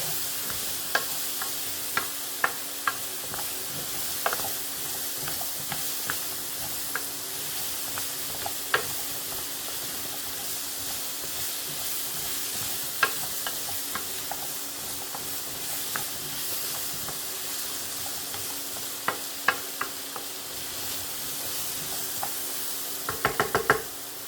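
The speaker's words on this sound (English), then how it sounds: "I use the little baby red potatoes and cut them up into forks. We're going to get those stirred in there." Halved baby red potatoes being stirred into sizzling chicken thighs in a pan, with a steady frying hiss and scattered knocks and scrapes of the spoon against the pan throughout, fairly quiet and with no talking.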